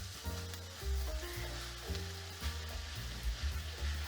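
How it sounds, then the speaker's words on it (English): Sausage sizzles steadily in a cast iron pan, a continuous close frying hiss with scraping and clunking as it is stirred around. "Stir this around, get a nice brown on it."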